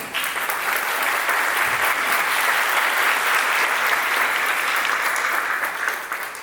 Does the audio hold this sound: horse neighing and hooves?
no